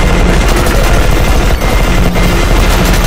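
A loud automated turret in E.Y.E. Divine Cybermancy fires a continuous rapid stream of shots, a dense unbroken roar of gunfire close by.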